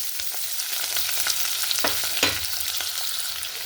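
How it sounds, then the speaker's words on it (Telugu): Onion and green chillies frying in hot oil for a carrot and beetroot curry, a steady close sizzle with occasional stirring scrapes throughout. "నూనె కాగిపోయిందండి ఉల్లిపాయ పచ్చిమిరపకాయ"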